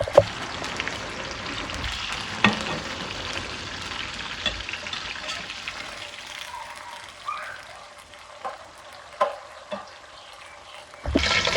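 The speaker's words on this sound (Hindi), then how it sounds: "हमारे बैंगन जो है वो फ्राई हो रहे हैं।" Eggplant slices fry in hot oil for a Pakistani stir fry, giving a soft, continuous sizzle with scattered pops and spatters, fairly faint and heard alone.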